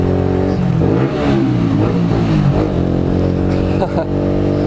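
A motorcycle engine revving hard and close by, its pitch climbing and falling through several quick throttle blips in a loud, continuous run.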